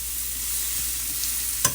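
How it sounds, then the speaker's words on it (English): Walnut taco meat cooking in a pan, a steady close sizzle with faint stirring scrapes and one brief sharper knock near the end. "And give it a good stir."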